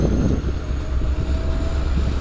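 A steady low rumble of an empty welded-rail freight train on the Housatonic Railroad, led by Pan Am Railways locomotive 345, rolling past nearby, with a faint high whine running through it and no voices.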